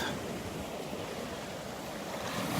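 Ocean surf at the beach at Delnor-Wiggins, a steady broadband wash of waves churning up sand, continuous and fairly close with some wind noise across the microphone and no voices.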